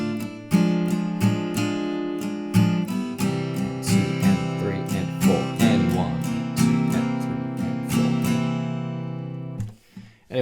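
Acoustic guitar strumming the first line of chords of a song, rhythmic strokes with chord changes, played up close with no voice, ending in a brief pause and a final strum.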